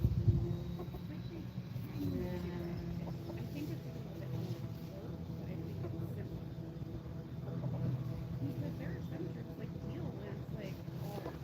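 Backyard chickens cluck and murmur nearby in an outdoor setting, irregular soft calls over a steady low background hum, with faint talk mixed in.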